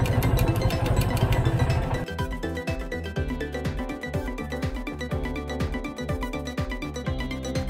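A motorcycle engine idles close by with a steady rumble during bike chain and sprocket cleaning, then settles into a slower, uneven clattering beat partway through.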